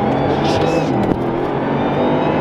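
Bugatti Veyron accelerating hard at partial throttle, a loud, close engine roar rising through the gears over about two seconds, with a voice talking over it.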